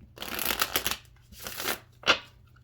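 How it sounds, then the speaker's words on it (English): Tarot cards are riffle-shuffled three times in quick succession, crisp fluttering bursts up close, the last one short and snappy. "Let's get a couple more shuffles."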